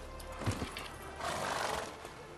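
A horse in The Witcher 3 video game gives a brief neigh, with blowing and hoof sounds at moderate volume and no talk.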